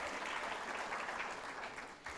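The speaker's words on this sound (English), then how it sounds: "So a huge round of applause for all of these leaders who are here with us today." Steady applause from a crowd at an HCLTech Grant 10-year celebration in India, a dense continuous patter of clapping throughout, heard at moderate distance without talk.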